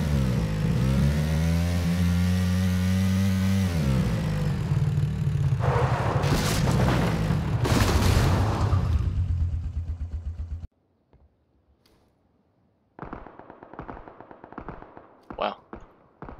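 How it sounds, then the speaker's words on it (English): Gunfire from many players in the PlayerUnknown's Battlegrounds video game, a loud dense roar of shooting and booms, then a pause and more scattered distant shots. "A lot of people shooting over there."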